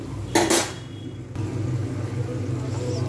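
Pieces of rohu fish go into a simmering pot of curry with radish and potato. A short clatter and splash comes first, then a low, steady bubbling rumble continues close by.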